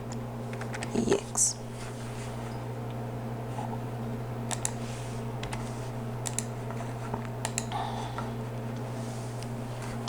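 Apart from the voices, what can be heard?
typing a file name on a computer keyboard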